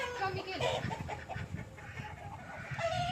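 Chickens cluck close by in short, repeated bursts, with faint voices in the background.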